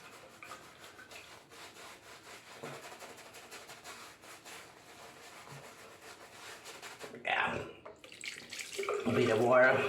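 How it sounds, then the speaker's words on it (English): A water tap runs to wet a shaving brush, with quiet rubbing and handling for most of the stretch before the tap gushes loudly near the end, close by. "I need a bit more water there. The water is still cold."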